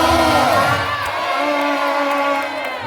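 A church congregation claps and cheers for Jesus in a loud, continuous roar of many voices, with shouts and whoops filling the room.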